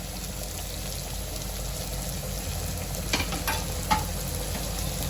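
Garlic crushed in a mortar and pestle fries with onion for a Maharashtrian-style egg chutney. A constant loud sizzle holds throughout, with a few brief scrapes of a spatula stirring near the end.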